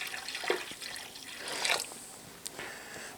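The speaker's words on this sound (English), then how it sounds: "I'm going to pour a little bit more water in there." Water is poured into a turkey brine, a close, splashing trickle that swells and fades over a few seconds with a couple of sharper drips.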